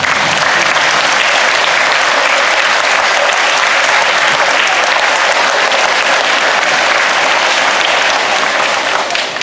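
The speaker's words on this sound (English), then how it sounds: "if you'll just slowly turn and smile to and clap for your teacher" An audience applauds its teachers at a school board meeting announcing a reward school, with loud, dense clapping that stays steady and sustained for the whole stretch, no voices over it.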